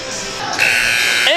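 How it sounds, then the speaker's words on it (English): Halftime buzzer at a college basketball game in an arena, a loud sustained electronic buzz lasting most of the moment amid crowd noise and a voice talking over it. "you see the buzzer, you hear the buzzer there"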